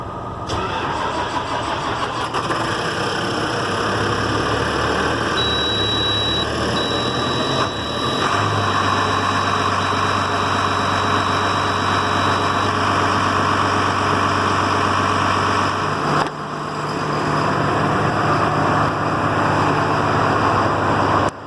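A New Holland T7030 tractor engine cranks and starts, then settles into a steady, loud idle with a faint high whine, its note shifting a couple of times; no one speaks.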